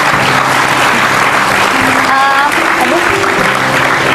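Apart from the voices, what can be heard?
audience applause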